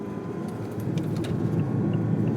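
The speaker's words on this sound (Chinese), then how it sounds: "我表演一段加速给你看" A car held in 2nd gear in manual mode accelerates, its engine rumble rising steadily and growing slightly louder, heard from inside the cabin with no talk.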